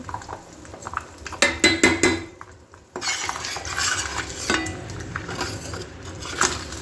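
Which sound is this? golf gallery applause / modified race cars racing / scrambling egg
scrambling egg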